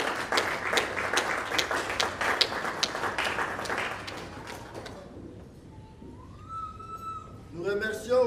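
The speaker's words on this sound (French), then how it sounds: "je vous demande d'applaudir pour vous-même" Audience applause at a church anniversary dinner celebration, a few seconds of moderate clapping that fades out, followed by a voice speaking.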